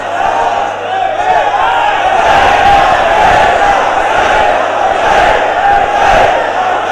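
A large crowd at a Tehreek Labbaik Pakistan Kashmir Day gathering chants the Labbaik slogan loudly in unison, a dense roaring mass of voices sustained throughout.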